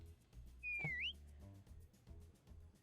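A quiet rising-and-falling whistle from the video game Reverse 1999 glides up briefly over a soft, rhythmic game music backing, with no speech.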